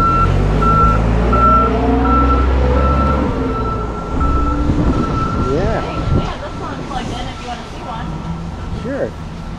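Reversing beeper on a vehicle backing a new Swintech travel trailer into place at an Alliance RV factory, the steady beeps repeating over low engine rumble, with people talking nearby.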